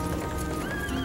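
Horse hooves clip-clop and a horse whinnies in a scene from the 1999 film Sleepy Hollow, a brief, dense burst of movie sound with layered noise.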